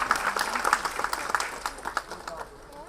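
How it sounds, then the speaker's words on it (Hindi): At an Ambedkar Jayanti celebration held at IIT Delhi, an audience claps for prize-winning children, a moderate patter of hands fading toward the end, with voices and crowd murmur mixed in. "कृपया जोरदार तालियों से इन बच्चों का स्वागत करें।"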